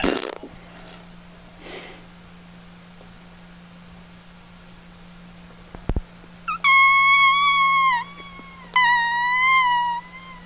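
A pet cat meows twice, each call a clear, drawn-out cry close by, the pair coming after a steady low hum and a few soft clicks with no talking.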